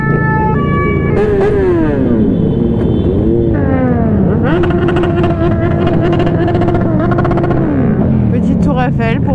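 Motorcycles ride in a Santa Claus parade, engines droning and rising in pitch as they pass, with a siren wailing near the start and people talking and shouting over the traffic.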